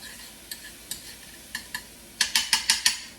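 Garlic browning in a pan over medium heat, heard as a faint low sizzle broken by a series of sharp utensil taps and scrapes that grow quicker and louder toward the end.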